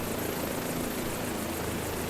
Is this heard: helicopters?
yes